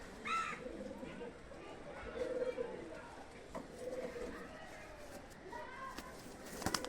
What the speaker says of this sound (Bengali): অরিজিনাল শিয়ালকোটি পায়রা